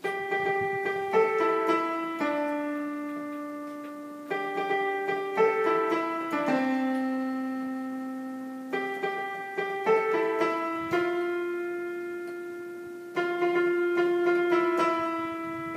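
A simple piano melody played at a steady, moderate pace, single notes with bass notes underneath, close and clean, no voices.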